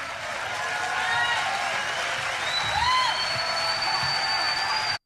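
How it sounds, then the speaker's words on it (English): Political rally crowd cheering and applauding steadily, a dense wash of clapping and voices with a few whistles rising above it, loud and sustained before cutting off abruptly. "People literally cheering for this,"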